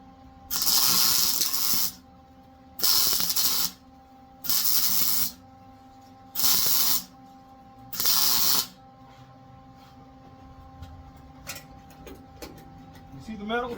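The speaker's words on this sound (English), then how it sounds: "So I'm only going to do a couple more welds just to show you guys" A welder works on an exhaust baffle of a 1993 Mustang Cobra fox body, giving five loud, close bursts of hissing crackle, each about a second long with short gaps, then a quieter stretch of faint handling noise.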